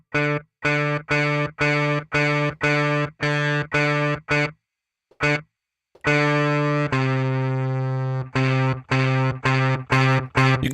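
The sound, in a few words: electric guitar through Fender Deluxe amp model, reverb off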